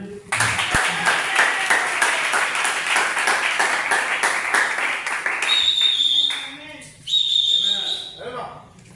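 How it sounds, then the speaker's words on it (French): A church congregation claps and whistles together at a pastor's enthronement service, a dense rhythmic burst of applause that carries on for several seconds, then thins and is punctuated by sharp whistles near the end. "On fait applaudir."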